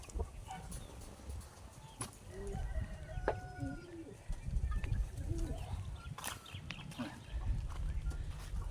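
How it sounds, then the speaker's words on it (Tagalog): Pigeons in a loft at feeding time, several birds calling and cooing at moderate distance over a low rumbling background, with scattered chirps and soft clatter throughout. "Para pumasok na yung ating mga ibon."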